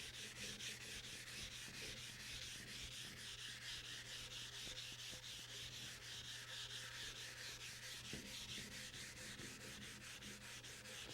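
Fine-grit sandpaper rubbed over a cast iron table saw top wetted with mineral spirits, a soft continuous rhythmic scrubbing with rapid back-and-forth strokes, close but faint, over a low steady hum.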